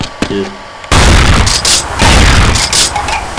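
An M3 Leone 12 Gauge Super shotgun fires in a video game, booming shots arriving in quick succession, each a loud, close blast with a short ringing tail, after a brief quieter moment of light clicks and a tone.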